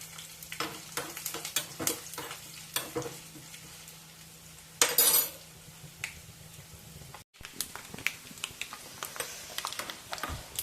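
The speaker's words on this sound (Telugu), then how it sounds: "ఉప్పు వేగుతుందండి తాలింపు" Mustard seeds, dal, cumin and curry leaves crackle and pop in hot oil with sharp, scattered sizzling bursts, a louder rush of frying midway, then a brief silence before the crackling resumes.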